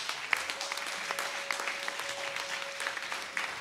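Church congregation clapping in acclaim of the Lord, a steady dense wash of applause with scattered sharper claps, fairly close and continuous without speech.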